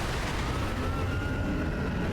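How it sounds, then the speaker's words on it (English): Firecrackers Shinobi prosthetic going off in the video game Sekiro: a loud, continuous, dense crackle of rapid popping bursts that fills the whole moment, with no talking. "So I finally started utilising the Firecrackers Shinobi prosthetic"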